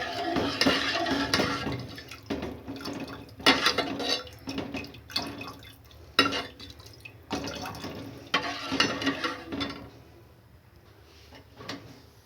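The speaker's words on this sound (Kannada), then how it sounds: "ಇದಕ್ಕೆ ನಾನಿವಾಗ 1/4 ಲೀಟ್ರಷ್ಟು ನೀರನ್ನ ಆ್ಯಡ್ ಮಾಡ್ಕೊತಾ ಇದ್ದೀನಿ" Water is poured in uneven splashing bursts into a pot of thin lentil rasam, with short pauses between pours and a fading trickle toward the end, close up and moderately loud.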